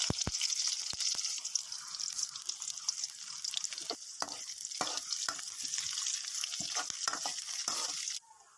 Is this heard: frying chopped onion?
yes